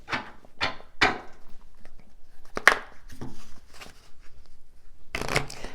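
Several quick bursts of tarot cards being riffled and shuffled, close and crisp, separated by brief pauses, with a final flurry at the end.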